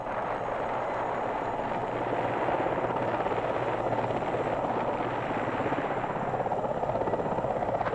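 A helicopter comes in to land at the US Embassy in Saigon to carry evacuees, recorded in archival footage, with a loud continuous rotor roar and dense beating chop throughout.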